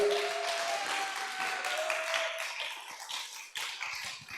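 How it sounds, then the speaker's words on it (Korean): Church congregation applauding after a closing prayer at a revival service, a dense, steady wash of clapping that holds for the whole stretch and thins slightly toward the end. "너무 박수 치지 마."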